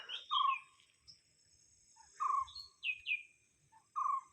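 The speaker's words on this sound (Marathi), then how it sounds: "पक्षी ओरडण्याचा आवाज येतो का त्या झाडावरती पक्षी बसलेला आहे" A bird perched in a tree near a village at noon calls in short bright chirping phrases, repeated several times with pauses between, clear and fairly close over a quiet background.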